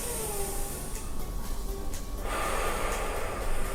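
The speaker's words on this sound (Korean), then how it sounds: "복부, 가슴, 머리 순으로 마시고" A deep Wim Hof breathing inhalation, drawn in through the belly, chest and head in turn, comes as a long, steady, airy intake close to the microphone over a constant background hiss.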